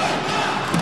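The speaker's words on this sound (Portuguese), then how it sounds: "A torcida ficou desesperada pra marcação da falta." A basketball arena crowd at a Brazilian league final game roars and shouts in desperate protest over a foul call, a dense, loud sustained wash of voices.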